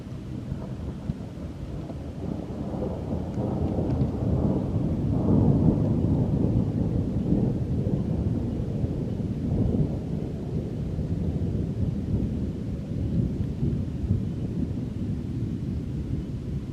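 A thunderstorm rolls in with deep, continuous thunder rumbling and swelling for many seconds, loud and enveloping, with wind-like noise and no voices.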